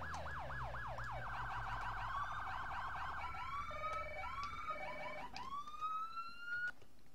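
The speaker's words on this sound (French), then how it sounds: "Klaxon." Police car siren cycles through several patterns, first a fast warbling yelp, then steady high-low tones and rising whoops, loud and close throughout with engine rumble underneath.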